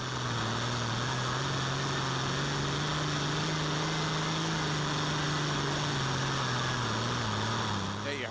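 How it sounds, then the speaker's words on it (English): A heavy pulling tractor engine roars at high, sustained revs during a pull, its pitch rising slightly and then dropping toward the end, loud and close with a hiss of noise over it. "Listen to the engine, crank it up."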